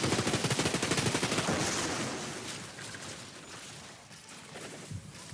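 Automatic turrets in the video game Gears of Destiny fire rapid bursts of gunfire, a dense rattling stream that starts loud and close, then thins into scattered shots amid combat noise, with no talk.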